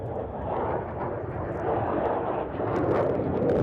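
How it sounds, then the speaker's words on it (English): A Lockheed Martin F-35A fighter jet with a Pratt & Whitney F135 engine flies a display at Mindil Beach during Exercise Pitch Black 24, its engine a steady, powerful distant roar that swells slightly toward the end. "The Lockheed Martin F-35A showing off its incredible power and manoeuvrability"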